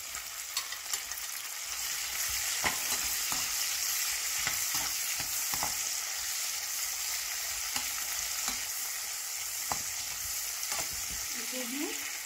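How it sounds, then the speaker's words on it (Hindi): Onion and garlic fry in oil in a pan for an Indian zucchini sabzi, giving a steady soft sizzle with occasional stirring clicks and scrapes, fairly quiet and close, with no one speaking. "इसे मैं 3 से 4 में फ्राई करूंगी।"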